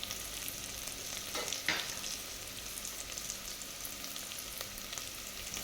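Pan frying with turmeric powder for a vegetable pulao, a soft, continuous sizzle with a brief scrape of stirring near the start, close but quiet.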